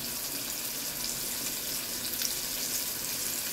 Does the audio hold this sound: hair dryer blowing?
no